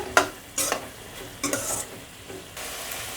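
Prawns frying with chilli flakes in oil, a low steady sizzle broken by a few scraping stirs of a spatula against the pan, close up and without voices.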